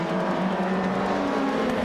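A 2014 BMW M235 race car in the iRacing video game, starting from pole position at Circuito Internacional de Vila-Real, holds a steady, loud engine drone throughout without pause.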